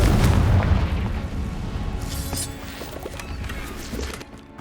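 A Confringo fire spell blasts in Hogwarts Legacy, a heavy booming explosion that hits loud at the start and rumbles on with crackling debris for several seconds, with no voices.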